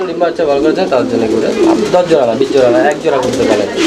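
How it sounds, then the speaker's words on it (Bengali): Fancy pigeons coo close and loud in repeated throaty rolls, a steady overlapping murmur from a pair of birds. "এই জোড়াটা যারা কোয়ালিটি ফুল কবুতর খুঁজতেছেন কোয়ালিটি চিনেন তাদের জন্য এই পেয়ারটা"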